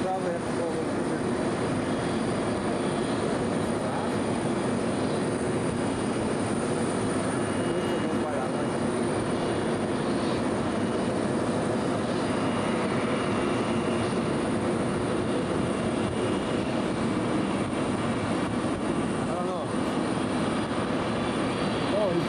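Steady, loud aircraft engine roar holds throughout at Toronto's old Terminal 1 in 1999, broad and continuous like a plane taxiing or passing nearby, with faint voices underneath.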